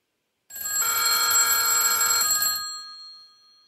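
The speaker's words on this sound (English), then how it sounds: "the ringer, it works, and there's enough power and the right frequency to give you a nice ring" A rotary telephone's mechanical bell rings on an incoming VoIP call, one loud, continuous metallic trill lasting about two seconds, then decaying into a short ringing tail and silence.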